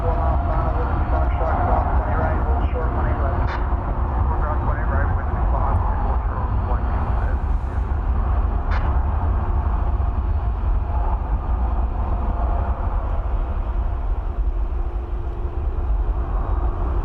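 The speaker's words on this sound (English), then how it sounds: "Meanwhile, Qantas Flight 8 is about ready to take off." A Qantas Boeing 787 Dreamliner at DFW Airport takes off at night, a broad, steady jet roar rumbling throughout at moderate distance with no pauses.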